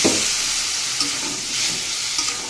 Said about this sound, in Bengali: এবার এখানে এই বাটিটার মধ্যে আমি একটু হলুদ আর একটু লবণ গুলিয়ে নিয়েছি জলটা দিয়ে দিচ্ছি